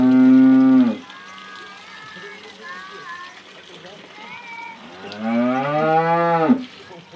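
Local Banaskantha cows low twice, a long loud moo at the start and another near the end, with quieter speech and farmyard murmur in between.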